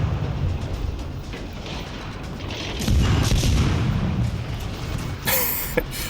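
Warship guns fire in a tier III World of Warships Legends battle, with a low rumbling background and a few heavy booming salvos at irregular intervals, one near the middle and a sharper burst toward the end.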